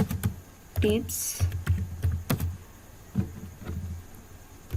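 Keys clatter on a computer keyboard as a channel name is entered, a run of close, irregular clicks with a voice speaking briefly over them.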